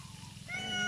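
A neighbour's cat meows at close range, one drawn-out, rising call that grows louder toward the end over a low steady hum.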